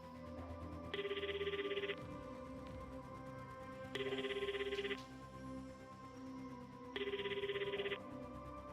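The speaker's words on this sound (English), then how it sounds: "Long dial tone." A telephone ringback tone sounds three times, each buzzing ring lasting about a second with regular pauses, over a quiet steady hum.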